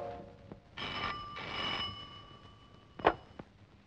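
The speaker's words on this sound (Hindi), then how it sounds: "मेरी कॉल सहेली है प्रेमा, उसको फोन करती हूँ" Telephone ringback tone on an outgoing call in an indoor scene, two long buzzing rings in steady succession, moderately faint, followed by a sharp click.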